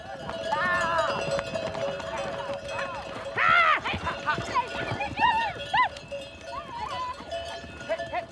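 Horses on the move during a transhumance drive, some of them never ridden before, their hoof clip-clop running steadily through the whole stretch under whinnies and calls, with people talking over it.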